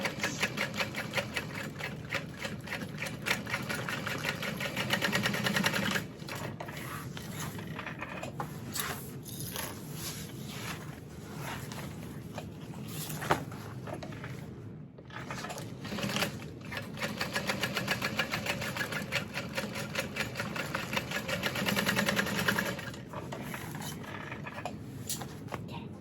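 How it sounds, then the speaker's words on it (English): Sewing machine stitching a little inside a basting stitch while making a bowler-style bag with binding, a quick rhythmic mechanical patter with brief pauses and restarts, close and steady throughout. "we'll sew just in a little ways from that basting stitch"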